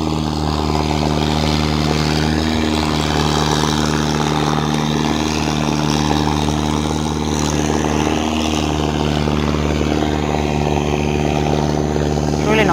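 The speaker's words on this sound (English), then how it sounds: "I'm gonna wait for that boat to go." A passing boat gives a loud, steady engine drone throughout, a constant low hum with little change from start to finish.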